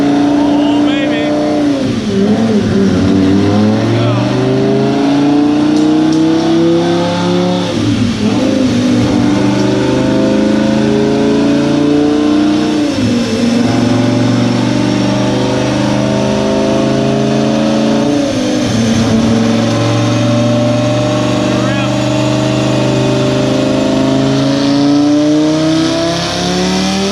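A Ford GT500 engine fires up for the first time, its revs rising and falling in repeated loud swells over a steady idle, with people talking over it.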